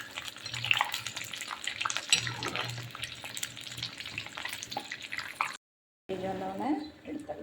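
Bajji batter fries and puffs up in hot oil, a continuous close crackling sizzle with clinks of a utensil, while someone talks over it; the sound cuts out briefly near the end.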